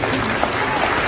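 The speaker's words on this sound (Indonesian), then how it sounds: "Silakan tepuk tangan lagi." Brief burst of audience applause at a talk on online business for small enterprises in Indonesia, steady clapping filling the whole moment at moderate loudness.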